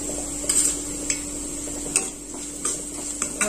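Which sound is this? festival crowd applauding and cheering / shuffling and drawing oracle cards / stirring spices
stirring spices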